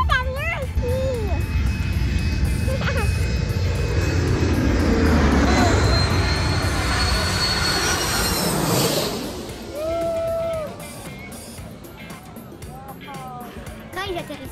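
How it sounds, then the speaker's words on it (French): Broad roar of jet airplanes near an airport on Saint Martin swelling and fading nearby, with children's voices chattering over the steady rumble. "Il y a beaucoup d'avions ici."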